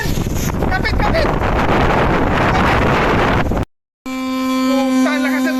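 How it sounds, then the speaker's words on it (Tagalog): Strong typhoon wind buffets the microphone with loud roaring gusts, then cuts off abruptly; after a brief gap a steady tonal hum and faint whistling follow. "Lakas ng hangin, grabe!"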